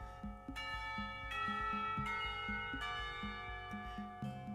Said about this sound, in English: The remainder of his sentence is buried beneath the ring of lunch bells